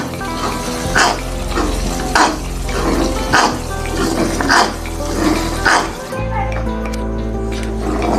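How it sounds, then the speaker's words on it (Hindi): Masala with yogurt frying in a pan for a dal chicken kofta recipe, a steady sizzle with occasional stirring scrapes that rise in bursts, then the sizzle drops lower near the end. "दही को भी भून लेते हैं।"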